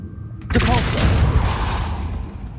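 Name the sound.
Depulso spell effect from a Harry Potter video game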